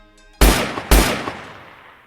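Pistol gunshot sound effect: two loud, sharp shots about half a second apart, each followed by a ringing, decaying tail, after a brief faint tone at the start.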